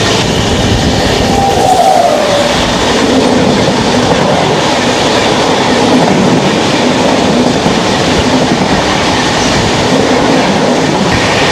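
Train 12382 New Delhi–Howrah Purba Express rushes past close by, a loud, unbroken roar of wheels and carriages with rhythmic clatter throughout.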